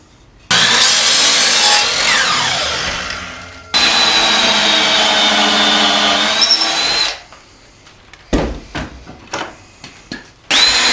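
A power saw whines loudly through scrap lumber in two long cuts, trimming off ends, followed by a few short bursts and clattering pieces.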